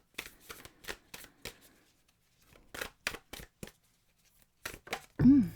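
Tarot cards are shuffled in a series of quick riffling bursts, close and crisp, with short pauses between rounds and a brief voice at the end.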